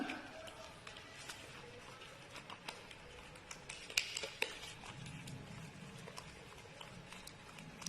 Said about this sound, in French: Donc je mélange. Bismillah. Je mélange bien.